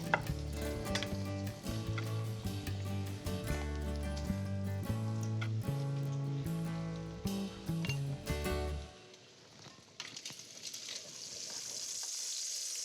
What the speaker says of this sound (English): So the bacon is nice and crispy.